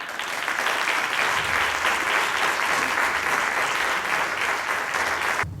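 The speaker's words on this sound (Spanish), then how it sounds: "damos un fuerte aplauso" Sustained, dense applause from a large audience at a talk event in Málaga welcoming a speaker, loud and steady for about five seconds before stopping abruptly.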